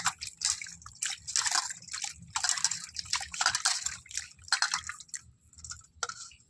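Fish pieces being rinsed by hand in water, with repeated splashing, dripping and sloshing bursts close by, alone with no voices.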